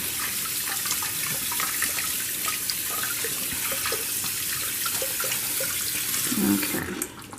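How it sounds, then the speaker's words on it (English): Tap water runs steadily into a kitchen sink as a corned beef is rinsed under it, a continuous hiss and splash with small clatters near the end. "the first thing we're going to do is wash up our meat"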